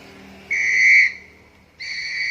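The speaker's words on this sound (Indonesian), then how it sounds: "terdengar peluit ditiup" A whistle blown twice, each a clear, shrill, steady tone lasting about half a second, with a short pause between the blasts.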